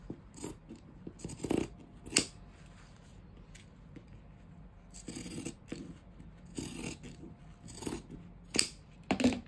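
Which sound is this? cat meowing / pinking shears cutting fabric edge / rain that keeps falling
pinking shears cutting fabric edge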